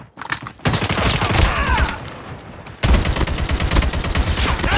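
Call of Duty gunfire: dense, rapid automatic bursts and overlapping shots, loud and close, with a brief lull before the firing resumes heavily.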